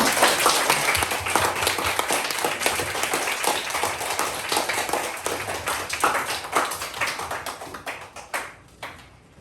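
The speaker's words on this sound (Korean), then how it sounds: "큰 박수로 환영하겠습니다" A congregation at a church worship service claps steadily in loud, dense applause that welcomes a pastor, then gradually thins and fades toward the end.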